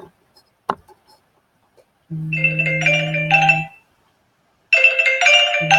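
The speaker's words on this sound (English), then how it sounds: "That's my alarm saying the kids are almost home off the bus." A short electronic phone alarm ringtone melody plays twice, loud and close, with bright bell-like tones over a low hum, separated by a silent gap.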